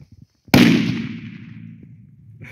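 A Big Bang 5G firecracker, a 5-gram banger, goes off with one loud, sharp blast after a few faint taps, then a long echoing decay rolls on for about two seconds.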